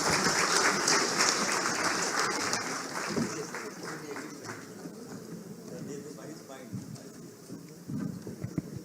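Loud applause from a crowd at a public gathering addressed by a chief minister in Jharkhand. It is dense and sustained at first, then fades gradually into scattered claps while voices carry on underneath.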